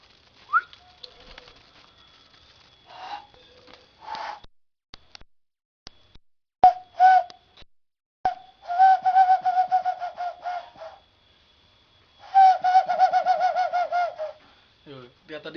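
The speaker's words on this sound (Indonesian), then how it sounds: "Burung ini tuh kenapa disebut perkutut?" Zebra dove (perkutut) calling with repeated rhythmic cooing phrases, several bursts of warbling notes at moderate distance, clear against a quiet background.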